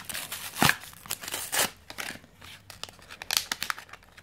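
Crinkly foil wrapping of a Pokémon Litwick evolution line booster pack being handled and torn open, close and in bursts of crumpling and ripping with short pauses between.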